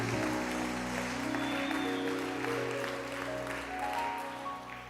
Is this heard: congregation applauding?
yes